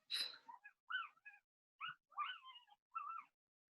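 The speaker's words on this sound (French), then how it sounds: "Désolée si vous entendez des petits bruits, j'ai eu la naissance de bébé chiot" Tiny high-pitched squeaks and whimpers come in short separate bursts, faint and close, from newborn puppies crying softly.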